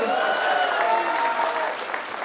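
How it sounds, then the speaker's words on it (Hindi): Audience applause at a Hindi kavi sammelan poetry recital, a dense, steady wash of clapping from a crowd lasting a couple of seconds with no speech. "तालियों का घनत्व बढ़ाइए"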